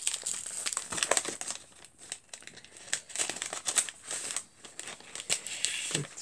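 Paper wrapping on a mailed parcel crinkles and rustles in soft, irregular bursts as the tape is cut with a box cutter and the paper is peeled away. The sounds are fairly faint and close, with no talking.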